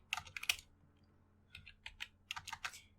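Quick, close clicks on a computer keyboard while coding in Python, several short bursts of keystrokes separated by brief pauses, with no talking.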